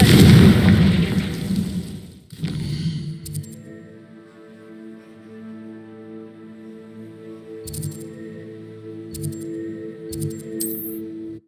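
Loud spell blast from the Confringo fire curse in Hogwarts Legacy, a heavy booming burst fading over about two seconds, then a quieter humming backdrop broken by a few brief sharp crackles.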